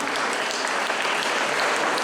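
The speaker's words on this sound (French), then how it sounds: "Je crois qu'on peut les applaudir très fort quand même." Audience at a live performance event claps steadily and loudly, a dense even patter of many hands continuing unbroken throughout the short stretch with no other sound on top.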